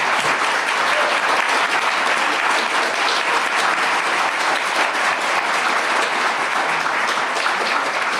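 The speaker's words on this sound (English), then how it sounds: "Let's give her a round of applause." An audience at a general education dialogue event claps steadily, sustained dense applause filling the room evenly without a break, with no voices over it.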